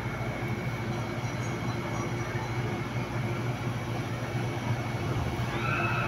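Steady droning cabin noise inside a small airplane in flight, a continuous low engine rumble with broadband hiss that holds even throughout.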